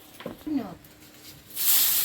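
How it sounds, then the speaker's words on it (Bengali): Taro flower dropped into hot oil in a wok over a wood-fired clay stove in the Sundarbans. A loud sizzling hiss bursts up near the end, after a brief stretch of talk. "কড়াইয়ে আর একটু তেল দেবো প্রথমে কচুর ফুলটা চাপিয়ে দেবো"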